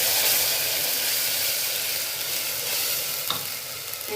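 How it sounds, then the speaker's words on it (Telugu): Onion paste frying in oil with cumin and mustard seeds for a goat head curry, a steady close sizzle with one brief stir or clink near the end, no talking. "వేగిన తర్వాత 3 ఉల్లిపాయలు పేస్ట్, 3 ఉల్లిపాయలు పేస్ట్ వేసుకున్నానండి."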